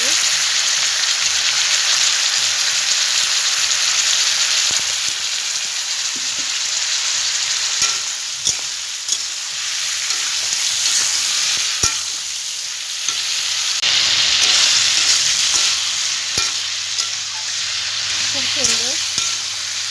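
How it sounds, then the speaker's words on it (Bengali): Bottle gourd curry with lentil fritters stirred and sautéed in a pan, a steady close sizzle with scraping spatula strokes throughout, and a brief spoken remark near the end. "কষানো হচ্ছে তরকারিটা।"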